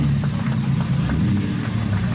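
A classic Ferrari 275 GTS drives past in a concours parade, a steady rumbling engine sound with low mid-frequency drone throughout, moderately loud and continuous.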